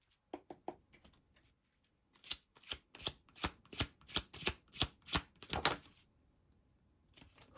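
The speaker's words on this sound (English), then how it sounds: "Let's pull some more cards." Tarot cards are shuffled up close in quiet, rapid rhythmic bursts of riffling and tapping, a short flurry at first, then a longer run of about a dozen evenly spaced slaps.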